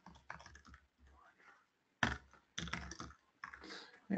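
Keys clatter on a computer keyboard as a network search term is entered during a software-defined networking software demo, coming in short uneven bursts under and between a man's speech.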